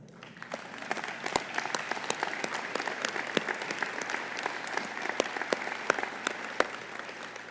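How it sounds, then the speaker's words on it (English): Audience applause at a State of the City address, a sustained round of clapping at moderate distance with individual sharp claps popping out above the steady patter. "LaVon Brooks, will you and your downtown ambassadors please stand for a round of applause?"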